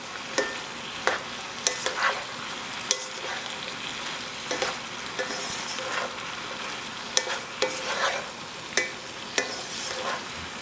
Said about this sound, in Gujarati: આને પકાવશું આપણે એટલું સુધી કે મશરૂમ્સ જરાક પોચા થઈ જાય. ને હમણાં મારો ટાંડો હાઈ ઉપર છે.